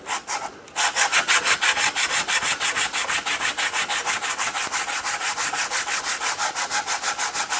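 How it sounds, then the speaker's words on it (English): A saw is run back and forth inside the kerf of a double bit cruiser axe handle to smooth it, a fast, regular wooden rasping of many short strokes after a brief pause at the start, close and steady. "I'm just going to smooth out that kerf cut so I can stick a fatter wedge in it"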